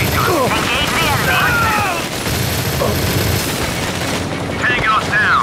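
Machine gun fire in the Modern Combat 4: Zero Hour video game, rapid bursts roaring over dense battle noise with radio chatter and voices mixed in throughout.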